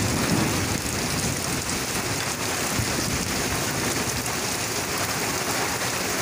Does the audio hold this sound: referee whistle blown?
no